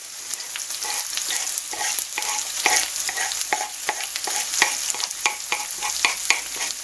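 Chilli and garlic fry in a hot pan for special fried rice, giving a steady, dense sizzle with quick spoon scrapes and taps ticking through it. No one speaks.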